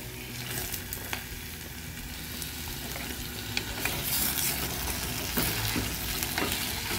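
Chopped tomato frying in hot oil with garlic cloves and half an onion, a steady close sizzle with stirring and faint scraping throughout, no voices.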